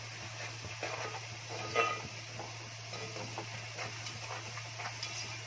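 Onions fry and are stirred in a pan for a Konkani-style chicken curry, with a steady close sizzle, occasional spoon scrapes and clinks, and a faint electrical hum underneath.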